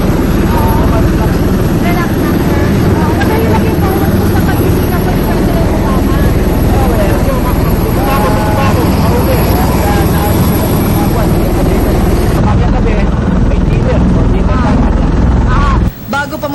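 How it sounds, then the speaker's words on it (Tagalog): Two Osprey aircraft fly as a presidential escort, a loud continuous rotor and engine roar that stays steady before cutting out, with a news reporter's voice heard over it. "Lumipad ang dalawang Osprey helicopter bilang kanyang escort."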